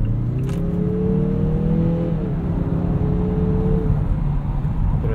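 The turbocharged four-cylinder engine of a 2018 Mazda CX-9 SUV accelerates at night with a smooth rising hum. There is one shift partway through, and the engine is heard steadily from inside the cabin over road noise.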